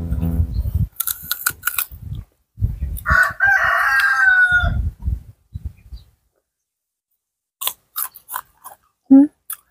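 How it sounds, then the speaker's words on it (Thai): Chickens kept beside a rural Isan homestead in Thailand: one long, loud rooster crow rises near the start amid scattered clucks and rustling, then a quiet pause before a few short, sharp clucks close by. "นูเสียงไก่เนาะค่ะเพิ่นเลี้ยงไก่ไว้นําอยู่ข้างๆกัน"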